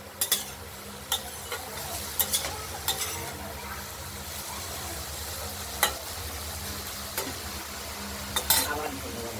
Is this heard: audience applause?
no